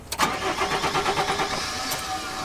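A car engine struggling with a faulty starter motor cranks in a rapid rhythmic churn, then catches and settles into a running rumble, close and loud with no talking.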